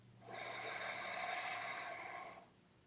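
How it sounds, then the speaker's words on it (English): One slow, deep breath drawn in through the nose during a guided meditation, a soft airy rush that swells, holds for about two seconds and fades, close and quiet. "let's take 3 more deep breaths together"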